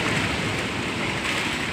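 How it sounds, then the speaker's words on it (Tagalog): Strong typhoon wind roaring across open rice fields in Isabela, a loud, steady broadband rush that holds without pause, with no voices over it. "Binabaybay na po ang bagyo dito sa Isabela. Ang lakas ng hangin."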